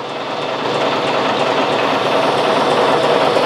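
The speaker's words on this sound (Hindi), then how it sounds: "यह पुराने समय का इंजन" An old British-era Indian railway engine idles on a forest line, giving a steady, loud, continuous rumble with a slight rise in level at the start and no talk over it.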